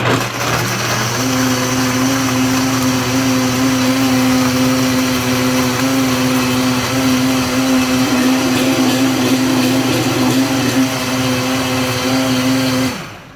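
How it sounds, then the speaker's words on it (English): A blender blending Irish moss whirs loudly and steadily at high speed, its motor pitch holding even until it cuts off at the end. "Turn on the blender."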